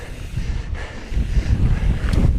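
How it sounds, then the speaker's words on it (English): Strong gusting wind roars over the microphone of a mountain biker out on a ride, a loud, steady buffeting rush that swells stronger toward the end, with no voices. "Man, it is windy. It's crazy windy, dude."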